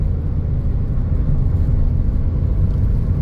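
Steady low road rumble and engine whir from inside a Toyota Raize 1.2 with manual transmission cruising at highway speed in fifth gear, continuous and fairly loud.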